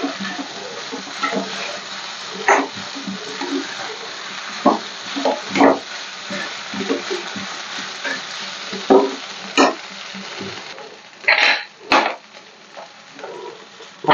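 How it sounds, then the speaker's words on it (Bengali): Potatoes frying in a pan for a vegetarian dish with green chilli: a soft steady sizzle broken by intermittent scraping stirs and clatter of the utensil, close by, with no talking. "আলুটা আমার কষানো হয়ে মানে ভাজা হয়ে গেছে"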